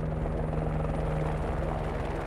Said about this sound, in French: nous retrouvons l'hélicoptère des scientifiques.